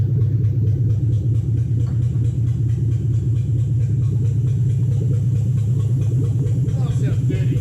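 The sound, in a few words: Toyota Hilux 3UZ V8 engine running rough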